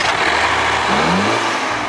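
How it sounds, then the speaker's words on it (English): Turbocharged Ford-built 4-cylinder in a 2015 Land Rover Discovery Sport crossover accelerating, a steady loud engine drone with a rising tone as revs climb, heard close with no talk. "This crossover's only engine is a turbocharged 4-cylinder designed and built by Ford."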